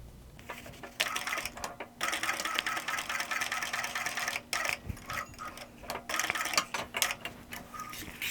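A sewing machine stitching the seam of a small fabric tote bag, running in steady bursts of rapid mechanical whirring with brief pauses between runs, close and clear with no talking.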